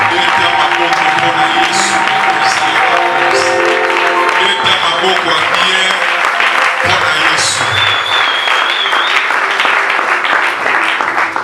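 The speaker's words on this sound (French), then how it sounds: "nous acclamons Jésus, le roi des rois." A church congregation at an anniversary and ordination celebration applauds and acclaims loudly and continuously, a dense wash of clapping with voices mixed in throughout.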